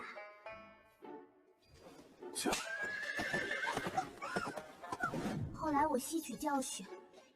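A horse whinnies loudly with a shaky, wavering neigh, with hooves clopping nearby and voices talking at the start.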